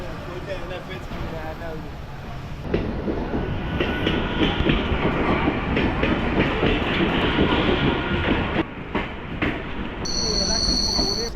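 A local train rolls loudly through Egmore railway station in Chennai, wheels clattering rhythmically over the rails with occasional metallic squeals, while voices are faintly audible in the background.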